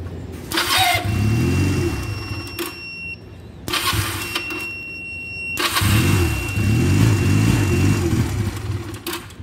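A small engine cranks and catches, running rough with the choke off as the throttle is held open by hand, surging and revving in uneven bursts with brief drops between attempts, loud and close.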